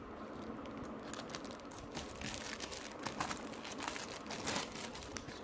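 Packaging for a GoPro Hero5 battery being unwrapped up close: crinkly plastic and paper rustling and tearing in quick irregular bursts, fairly quiet, with no talking.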